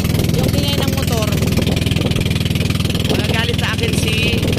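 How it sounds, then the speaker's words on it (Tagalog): A motorcycle engine runs steadily with a loud, continuous low rumble throughout, while a person talks over it. "maingay ang motor."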